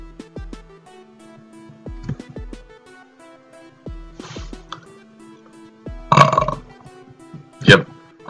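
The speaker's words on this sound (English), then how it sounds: "I just burped, guys." A man burps loudly twice near the end, sharp wet belches standing out over quieter game sounds of drips and tones from a Pokémon Reborn playthrough.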